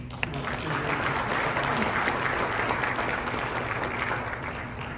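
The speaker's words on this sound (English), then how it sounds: "I'd like us to give her a round of applause" An audience at a professor emeritus recognition event at the US Merchant Marine Academy gives steady, moderately loud applause, even and sustained, with a low hum of the room beneath.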